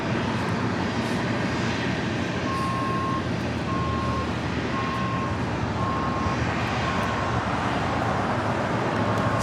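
Steady roar of an Embraer Legacy 650E business jet arriving at LAX from Van Nuys, a loud, constant broadband engine rush with a regular electronic beep repeating in the background.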